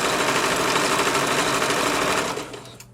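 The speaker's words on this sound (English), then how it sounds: "now we're going to backstitch" A sewing machine runs steadily for a few seconds, backstitching while sewing a baby Moana outfit, a dense close mechanical whir that stops abruptly at the end.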